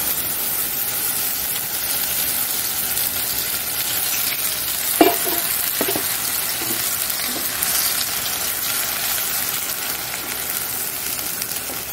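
Spice paste frying in hot oil for a Bengali catla fish curry, a steady soft sizzle and stirring hiss throughout, with a few brief scraping clinks midway, fairly quiet and close.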